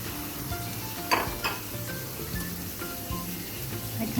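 An egg frying in butter in a hot pan for an omelet, a steady sizzle with a couple of sharp scraping and tapping noises from utensils against the pan, close and moderately quiet.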